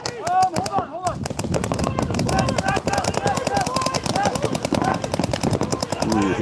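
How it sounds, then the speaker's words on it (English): Paintball markers firing during a game at an outdoor paintball park, a dense, steady stream of rapid pops and cracks lasting throughout, with people talking and shouting underneath. "Ooh, he got shot in the back."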